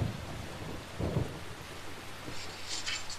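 Video game rain hiss, from Deadly Premonition, with a low thunder rumble rolling in early on, fairly quiet and continuous, no voices.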